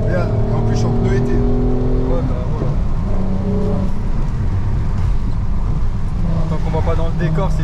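A Volkswagen Golf 5 R32 on summer tires drives along a road, its engine note loud and steady with a rising and falling drone, close inside the cabin, with people talking over it.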